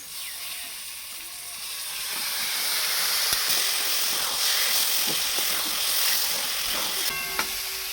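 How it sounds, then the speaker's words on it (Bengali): Beef pieces tipped into a pan of fried spice paste, giving a broad, steady sizzle and hiss that swells over several seconds, with a few clinks of a utensil near the end and no talking. "মশলাটা এইরকম কষানো হয়ে গেলে এবার দিয়ে দেবো মাংস। এবার ঢেলে দিই।"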